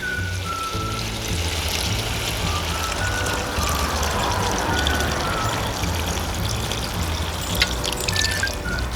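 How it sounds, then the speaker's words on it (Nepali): Water pours steadily into a kadai of local chicken curry cooking on the stove, a continuous trickling gush lasting several seconds, close and fairly loud with no talk. "अब यसो पानी राखिदिउँ।"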